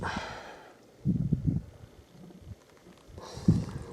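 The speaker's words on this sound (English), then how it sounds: "You can hear it gurgling and burping every so often as air comes out." Water system hoses in a bush-trip setup gurgle and burp as air escapes, giving a few short, low, bubbly bursts near the start and again toward the end, with quieter hiss between.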